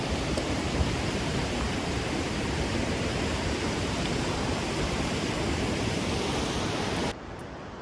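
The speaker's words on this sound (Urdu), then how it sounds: "وہ سامنے آبشار ہے" A waterfall beside a wooden footbridge on a mountain trek between Naran and Battakundi in spring: a steady, loud, broadband rushing roar that fills the scene and cuts off abruptly near the end.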